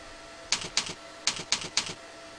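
Keystrokes on a computer keyboard while code is entered in Visual Basic: five crisp, close clicks in two short bursts, with brief gaps between the groups, heard alone against quiet room tone.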